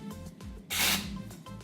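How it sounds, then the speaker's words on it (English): A short burst of Living Proof Dry Volume Blast hair spray is sprayed at the roots of curly hair, a brief close hiss in the middle of quiet handling sounds. "You just spray at the roots, shake it up a bit,"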